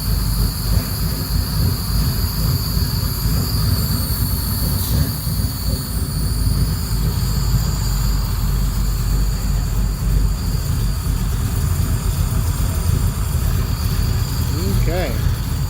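A cold car engine runs at a low idle of roughly 550 rpm, a steady, deep, rumbling drone up close that continues unbroken, with someone speaking over it.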